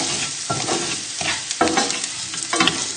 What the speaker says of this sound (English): So just tip in your rice and give it a good stir.